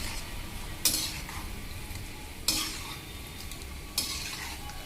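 Cashews fry in hot oil for an Andhra-style ladies finger fry, a steady close sizzle broken by three sharp spoon-stirring scrapes against the pan, spaced about 1.5 seconds apart.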